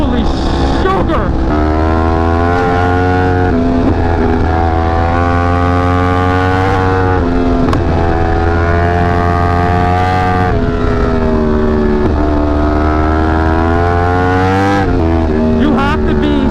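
A Yamaha R1 sportbike on its first ride gives a loud, continuous engine roar that rises and falls as the throttle is worked, with harmonic whine and brief dips. A voice sometimes comes through over the engine.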